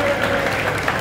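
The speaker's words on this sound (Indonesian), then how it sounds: "Tepuk tangan dulu, tepuk tangan." Continuous applause from a crowd at a religious lecture gathering, dense and steady through the whole brief moment, with voices mixed faintly underneath.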